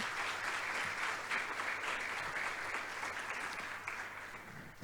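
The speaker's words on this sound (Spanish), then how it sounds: "Hay alguien que le puede dar un aplauso por lo que Él hace." A church congregation applauds, a dense, sustained clapping from many hands that holds steady and then fades slightly toward the end.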